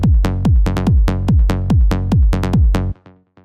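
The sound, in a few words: layered low-end bass in Ableton trance track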